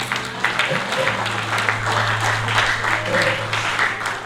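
Applause from a pastoral conference congregation fills the hall in a steady, fairly loud wash of clapping, with a low electrical hum running underneath.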